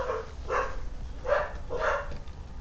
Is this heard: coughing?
no